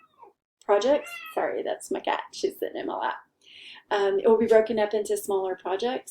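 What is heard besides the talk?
cat meowing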